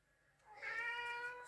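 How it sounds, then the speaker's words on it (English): A pet cat gives a single drawn-out meow, faint and somewhat distant in a quiet room. "Yeah, that's my kitty boy."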